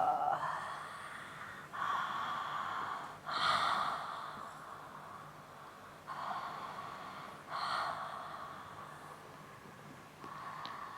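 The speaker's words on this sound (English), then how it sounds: "Breathe into it" Deep, forceful breaths during a breathwork and trauma-release session, coming as about five long, loud inhale-exhale surges spaced a couple of seconds apart, close and breathy with airy rasping edges.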